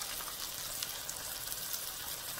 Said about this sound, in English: now I'm gonna add my sauce